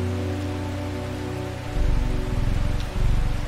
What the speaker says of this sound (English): I enjoy listening to the sound of the pouring rain